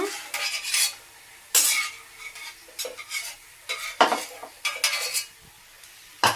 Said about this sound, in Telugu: ఇప్పుడు కరివేపాకు వేయిస్తాను